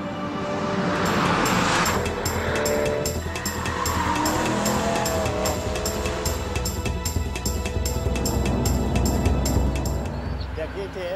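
Loud, continuous roar of a BMW M3 GTS engine driven hard, with tire squeal and a steady rhythmic ticking layered over it; speech is mixed in.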